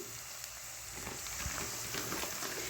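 Onions fry in oil with spices for a paneer capsicum curry, giving a steady close sizzle and crackle with a faint low scrape partway through.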